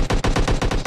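Rapid automatic gunfire from the battle royale game PUBG Mobile, a tight burst of about eight evenly spaced shots, loud and close, with no talk over it.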